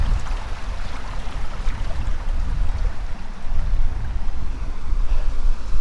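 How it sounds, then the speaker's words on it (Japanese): Water flows steadily alongside a mountain walking trail past old houses, a continuous rushing wash with a strong low rumble, close and unbroken, with no voices. "水の音が とても気持ちいい。"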